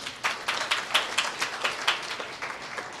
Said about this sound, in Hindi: क्या उसके लिए जोरदार ताली दें?